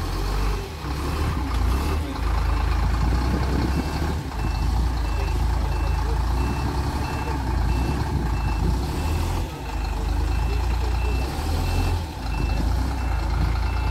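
A truck reverses up an incline at a lineman training site, its reversing alarm beeping steadily and repeatedly over a loud, continuous engine rumble nearby.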